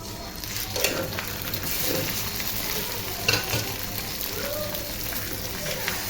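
Ground radish leaf paste sizzles in a hot pan, a steady close frying hiss with intermittent stirring scrapes and soft spatters throughout.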